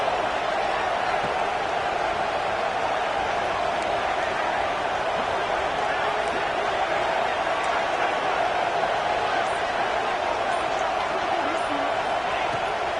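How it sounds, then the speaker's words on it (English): A dense, steady stadium crowd roar fills the scene in the College Football 26 video game during a tense two-point conversion try, loud and unbroken throughout. "this crowd is deafening, trying to will the stop"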